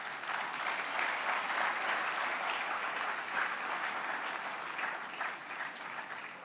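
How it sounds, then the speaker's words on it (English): Sustained audience applause from a large crowd at a scouts event, dense even clapping at steady volume for several seconds, tapering slightly at the end. "Give a clap, please."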